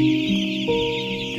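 Young chicks on their ninth day in a poultry farm shed, a loud, steady mass of overlapping peeping and cheeping from many birds close by, with no voices.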